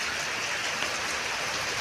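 A sudden rain shower gives a steady, even hiss of falling water, continuous and fairly soft, with no voices.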